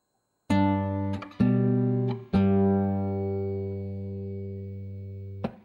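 A solo guitar plays a short phrase of Minuet in G, a few plucked notes and chords, the last one ringing out long before a final light pluck.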